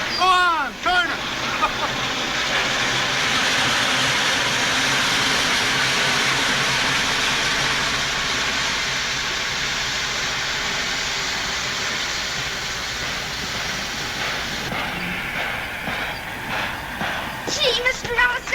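A steam locomotive running with its blow-off valve opened, a loud sustained hissing rush of steam lasting most of the stretch, preceded and followed by chuffing and clanking bursts, with voices heard at the edges.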